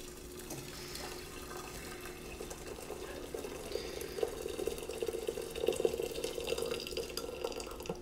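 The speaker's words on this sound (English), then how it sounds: "Pour in the hot water." Hot water pours steadily from a tea kettle into a cup, a continuous close trickle that swells a little toward the end, with no talking.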